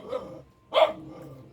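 A thin dog gives two short barks with a pause between them, the second one louder and sharper, heard at moderate distance with no talk.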